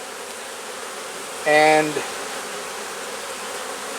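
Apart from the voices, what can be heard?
honeybees buzzing around a split hive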